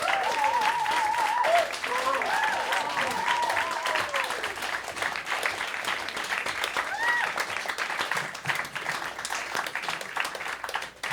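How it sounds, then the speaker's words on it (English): Applause breaks out from the audience at a cabaret fundraising show, a steady, dense crowd clapping that carries on throughout, with cheering voices and whoops rising over it near the start. "Let's give a round of applause"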